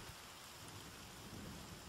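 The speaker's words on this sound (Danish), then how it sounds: "Nu begynder det at regne." Steady, dense rain hisses continuously at a soft, even level in an outdoor forest setting within a survival video game, with no voices.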